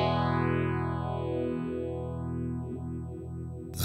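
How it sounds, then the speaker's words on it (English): A Sonicake Matribox 2 guitar pedal running a very subtle phaser modelled on the Electro-Harmonix Small Stone, with a sustained distorted guitar chord slowly sweeping up and down in a steady whoosh, loud and alone. "Very, very subtle phaser. ST, where am I? Based on Electro Harmonics Small Stone."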